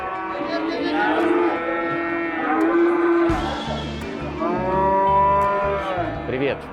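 Cattle at a livestock market low and moo repeatedly, with several long, drawn-out calls overlapping one another close by and market background noise underneath.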